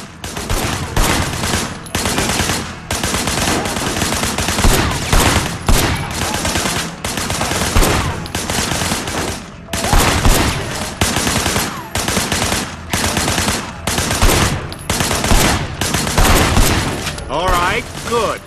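Gunfire from the video game Sleeping Dogs: loud, close bursts of rapid shots that repeat in clusters throughout, with brief gaps between volleys and some voices mixed in.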